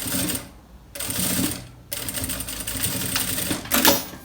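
A sewing machine stitches a zipper onto bias binding for a double toiletry case, running in close, loud bursts separated by brief pauses.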